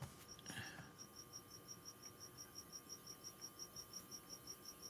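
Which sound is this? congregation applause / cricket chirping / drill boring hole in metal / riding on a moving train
cricket chirping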